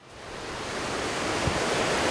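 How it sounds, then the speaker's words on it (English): River water pours over the weir of a hydro scheme that diverts flow to a turbine, a steady broadband rush that swells slightly and holds loud and close without any talking. "This is the weir that takes the water out of the river that feeds the turbine in a hydro scheme."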